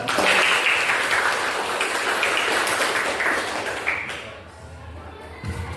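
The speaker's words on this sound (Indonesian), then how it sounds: "Tepuk tangan" Classroom applause from students after a lesson on computer input devices, a dense, steady patter of clapping that holds for several seconds before thinning out near the end.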